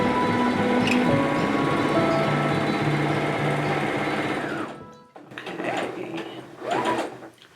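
A sewing machine stitches steadily with a fast mechanical whir for several seconds, then stops, followed by soft rustling handling sounds.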